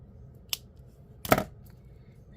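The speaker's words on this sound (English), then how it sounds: "Alrighty, now we're going to snip off the excess." Wire for an agate necklace is snipped off with cutters, giving two sharp, brief clicks about three-quarters of a second apart, the second louder, against quiet background hum.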